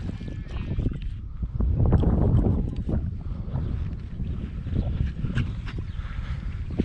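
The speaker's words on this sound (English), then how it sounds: "Just fording the little river." Small clear river in the Brecon Beacons foothills being forded on foot with a dog, water splashing and rushing close by in steady broadband bursts with wind buffeting the microphone.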